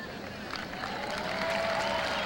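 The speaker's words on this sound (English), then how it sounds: "Applause for Bill Cosby, who caught the ball and threw it back." Tennis crowd at the 1986 US Open semifinal applauding steadily in a large stadium, a broad continuous wash of clapping with faint crowd murmur underneath throughout.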